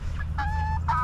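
Meat chickens clucking in a small homemade chicken run, two or three close, distinct clucks within a second over a steady low rumble.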